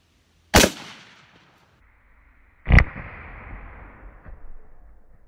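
Two loud, sharp rifle shots, one .223 and one .243 firing 100-grain soft point, spaced about two seconds apart outdoors, each cracking close and trailing off in a long ringing echo across open ground.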